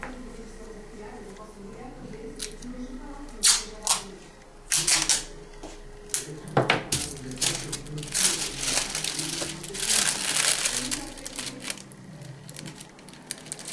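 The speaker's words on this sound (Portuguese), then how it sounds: "Aqui a gente já pega o durex" Adhesive tape being pulled and handled while a paper kite is assembled, giving irregular crinkly tearing and sticking noises in short bursts under ongoing speech.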